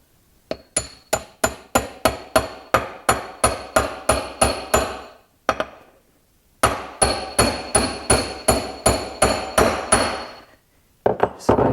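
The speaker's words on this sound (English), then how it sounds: "Any socket you have, just so it hits just on this outer edge of this bearing. That's how I'm going to tap that in there." A hammer strikes a socket to tap a bearing into a lawn mower, giving sharp, ringing metallic taps in quick, even runs of about a dozen blows, separated by short pauses, close and clear with no talking.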